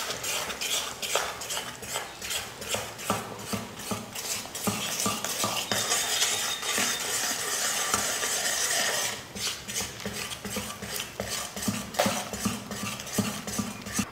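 Gram flour batter is stirred into hot sugar syrup for Mysore pak, giving a long run of close, rhythmic scraping and clattering of a ladle against the pan that eases briefly before resuming, with no speech.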